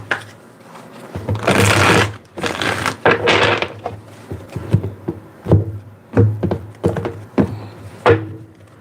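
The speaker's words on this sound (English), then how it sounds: "Let's get 2 more shuffles here." Tarot cards are shuffled by hand up close: a couple of longer rustling, fluttering bursts early on, followed by a series of short flicks, taps and card knocks at irregular intervals.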